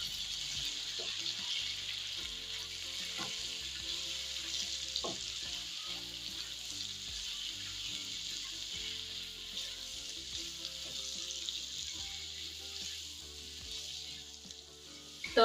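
Radish greens tossed with turmeric, coriander-cumin powder and chilli sizzle steadily in a pan, a close, continuous hiss with scattered scraping and clinking as they are stirred, no voices over it.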